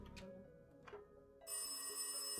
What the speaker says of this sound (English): let's answer this phone to this mysterious and dark voice